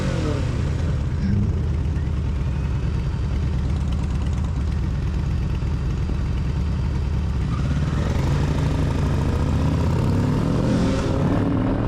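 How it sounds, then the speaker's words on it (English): Several motorcycles passing at a street intersection, a loud continuous engine rumble close by that swells as bikes ride past, heard from a rider's position on a moving Kawasaki Ninja 650. "There's like 4 bikes at one intersection."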